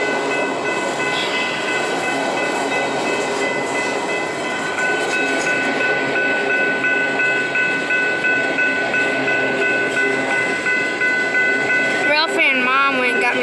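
A train rumbles steadily past at close range, and near the end a brief metallic squeal of braking wheels rises over the noise.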